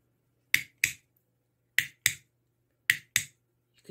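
Pet training clicker on its loud setting, six sharp clicks in three close pairs spaced about a second apart, crisp and near, with no talk.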